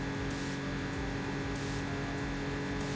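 A steady, droning Lotus race car engine in the video game Enthusia Professional Racing roars continuously at high revs, loud and close, with no pauses or voices.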